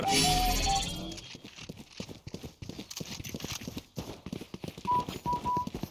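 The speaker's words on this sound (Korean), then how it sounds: "이렇게 발소리 내면 애들 다 알잖아" Footsteps in the video game Valorant, a quick, even run of sharp steps that keeps going after a brief burst of louder game noise at the start, with a thin tonal beep near the end.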